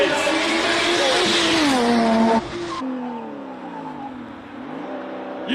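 A BMW E30 revs hard at a Cape Town classic-car hill climb, its engine note climbing and falling loud and close, then settling into a lower, uneven rev after a sharp drop, with faint voices in the background.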